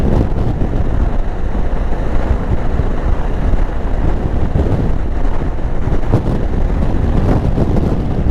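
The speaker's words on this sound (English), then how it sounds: "I can really feel the wind, you know, when I get up to speed." Strong wind buffets the microphone of a motorcycle rider moving at speed, a loud, continuous low roar without any talking.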